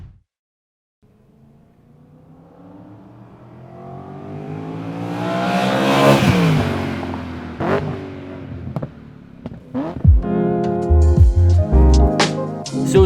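A BMW E92 M3 with a Magnaflow exhaust approaches and passes, engine note rising in pitch and volume through the gears to a loud peak, then continuing with sharp revving and pops as it drives on.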